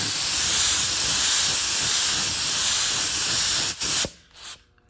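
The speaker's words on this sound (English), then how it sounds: "Can't even tell I'm spraying it down" Continuous bright hiss of a spray gun painting a car panel on a 1971 Plymouth GTX for about four seconds, then it cuts off abruptly, leaving near silence with a brief short burst.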